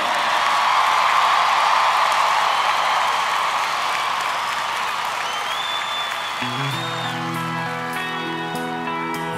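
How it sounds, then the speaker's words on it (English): A huge Astrodome crowd at a live concert roars with applause and cheering for the band. After several seconds the band's instruments come in beneath the fading crowd noise. "Let's have one big, huge round of applause, if you will,"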